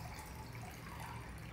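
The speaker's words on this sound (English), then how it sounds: "We can just drain out the excess water." Excess soaking water drains off broken brown rice in a kitchen, a brief, close, continuous splashing pour that cuts off abruptly at the end.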